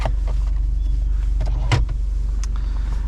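The engine and dual-mode exhaust of a 2020 Alfa Romeo Stelvio Quadrifoglio with a ZF 8-speed automatic hold a steady, deep, close rumble, broken by a few faint clicks and one brief knock.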